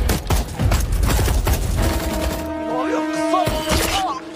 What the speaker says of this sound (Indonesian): muncullah tembakan dari seorang sniper